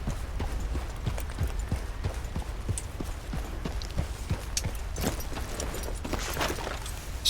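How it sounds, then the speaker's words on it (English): Steady clip-clop of horse hooves in a video game, a regular rhythm of close, distinct footfalls that keeps going the whole time over a low ambient bed. "I'm going to put the horse over here."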